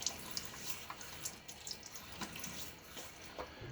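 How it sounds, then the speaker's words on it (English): Water runs from a tap at a bathroom sink during a wet shave with a Gillette Tech razor, a steady splashing stream with small spattering drips, close and fairly quiet, no voices. "Let's add some water to my face."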